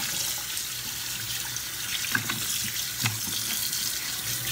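Cold tap water running steadily over short ribs in a strainer at a kitchen sink, a close, continuous rushing flow with a few small clinks and splashes.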